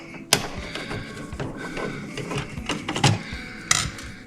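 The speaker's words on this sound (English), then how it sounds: "Next job is just to remove the screws on the cover plate." Screws are loosened from a GFCI outlet cover plate with a screwdriver, giving close, irregular clicks, scrapes and small metallic ticks, with a few sharper knocks, heard without talk.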